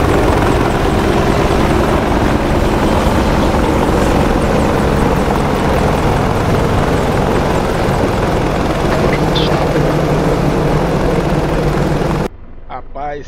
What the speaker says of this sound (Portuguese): Esse efeito que fizeram pro helicóptero que ficou muito bom